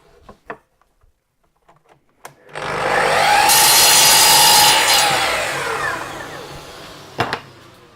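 A Festool Kapex mitre saw cuts off a piece of timber for a garden bench repair: a few light knocks, then a loud whining cut of several seconds as the motor spins up, bites through the wood and winds down, ending in a clunk.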